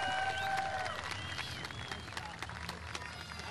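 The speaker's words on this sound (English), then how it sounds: "How about a round of applause?" A crowd applauds a driver climbing out of his car after a Canadian Championship race, a steady wash of distant clapping that continues through the whole stretch.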